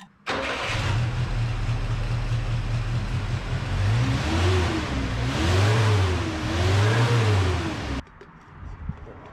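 A 1981 Ford Courier truck, an old U-Haul converted into a work truck, starts and runs at a steady close hum, then revs in three rising and falling pulls before cutting off abruptly.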